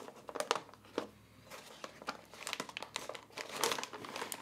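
An MSI RTX 3080 Suprim X graphics card is drawn out of its packaging, with close, irregular crinkling and rustling of plastic and foam in quick bursts throughout.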